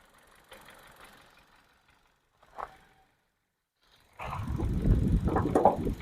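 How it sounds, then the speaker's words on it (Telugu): A 2015 Hyundai i20 Magna petrol engine stays nearly silent at first with only faint ticks, then a close, steady low rumble of idling swells up and continues to the end. "చాలా సైలెంట్ ఇంజన్ మాత్రం. ఇంజన్ స్టార్ట్లో ఉంది."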